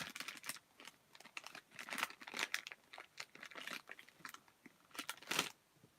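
A candy package is opened with scissors, giving close, crisp crinkling and snipping in irregular bursts of short rustles and crackles, with no talking.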